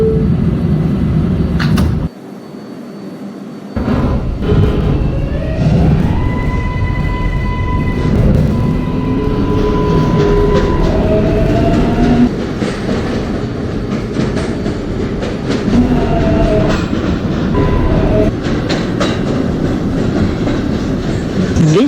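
A 7 subway train in a Roblox game runs with a continuous rumble and clickety-clack. Rising and falling motor whines sound over the steady rolling, and a brief drop near the start sounds like doors or a cut before the train moves on.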